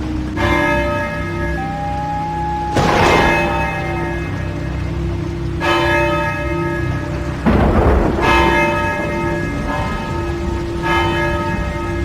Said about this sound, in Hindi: हर रात ठीक 11 बजे गांव का चौकीदार उस घंटे को 11 बार पीटता था।